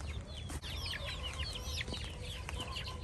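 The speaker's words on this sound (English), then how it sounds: "I gotta save the turkeys and the little birdies." Chickens in a video game cluck in a steady run of short calls over a dense farmyard bed of low rumbling noise, with no voices.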